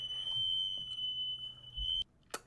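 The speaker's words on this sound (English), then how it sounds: "that is our smoke alarm going off" A house smoke alarm, set off by an air conditioner, sounds a loud, steady high-pitched electronic tone for about two seconds and then cuts out, followed by a short faint chirp.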